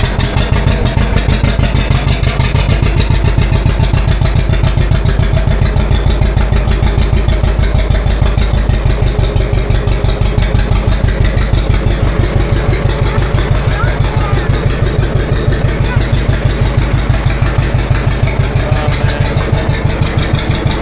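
A classic farm tractor engine fires up in 20-degree cold weather and settles into a loud, steady, throbbing idle that carries on close by, with voices talking now and then.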